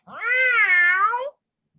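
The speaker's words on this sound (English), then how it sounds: "a cat" A single cat meow, close and clear, rising and falling over about a second with no talk around it.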